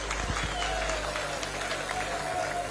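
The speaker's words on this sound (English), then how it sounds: "A round of applause for him, please." Audience applause at a political speakership declaration event for a Nigerian contestant, a steady wash of clapping from a crowd filling the hall throughout, with faint voices mixed underneath.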